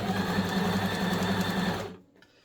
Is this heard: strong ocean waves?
no